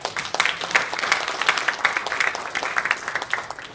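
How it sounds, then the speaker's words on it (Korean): Audience applause at a lecture on social enterprises: dense, steady clapping from a seated crowd, moderately loud and sustained throughout with no break. "이름을 전민재 사장으로 바꾼 우리 박수 한번 쳐드리시죠."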